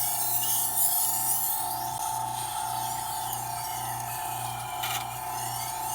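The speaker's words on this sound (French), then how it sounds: "je vais tourner toujours que la pierre vient contre le couteau" A water-cooled sharpening stone machine grinds a knife blade, a steady motor hum with a rhythmic low pulsing and a continuous gritty scraping of steel on wet stone, close and even throughout.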